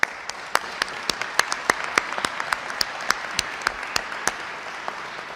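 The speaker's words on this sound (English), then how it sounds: "I want to give both of them a big round of applause" An audience at an Illinois governor's infrastructure announcement applauds, with a dense wash of clapping broken by sharp, distinct claps from nearby hands.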